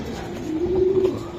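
A racing pigeon gives a single soft, low coo from close by, brief and clear against a quiet background with no voices.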